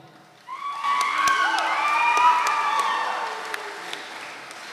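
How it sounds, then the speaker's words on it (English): An audience applauding at a school graduation ceremony, clapping swelling in quickly and holding steady, with tonal sound sweeping over it and occasional sharp claps standing out. "To give a closing remarks, may we give a round of applause to our very own principal, Miss Yolanda Nambe."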